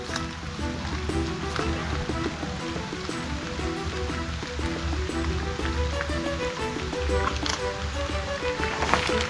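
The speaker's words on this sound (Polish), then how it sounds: "No trochę pada, ale nie jestem tym zaskoczony." Steady rain falls through a forest, a dense, even patter and hiss that carries on without a break for the whole stretch, moderately quiet, with no talk.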